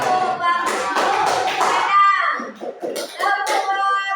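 A school class doing a rhythmic 'tepuk bagus' praise clap, a burst of group hand claps in quick patterned beats mixed with voices chanting along.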